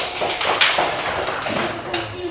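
Students in a classroom clap briefly for a fellow student, a short dense patter of hands over a steady room murmur.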